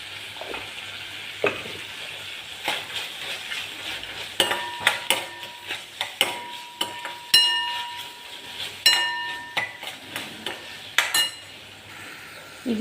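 Ginger and other chutney ingredients sauté in a pan with a soft continuous sizzle, punctuated by repeated clinks and scrapes of a stirring spoon against the metal, growing busier toward the end.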